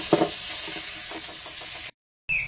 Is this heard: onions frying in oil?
yes